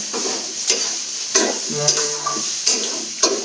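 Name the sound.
bitter gourd (karela bhaji) frying and being stirred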